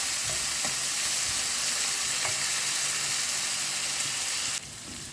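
Onion, ginger and garlic sauté in a pan for black pepper chicken, a loud steady sizzle with a few soft stirring knocks, close and continuous before it briefly drops lower; no voices.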